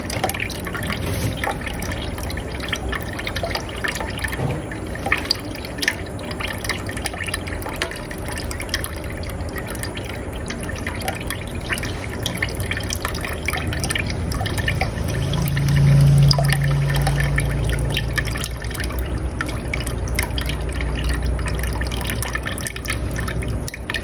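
Water pouring and trickling into a blender holding fish for laksa, a steady liquid fill and dribble that swells louder partway through, with no talking.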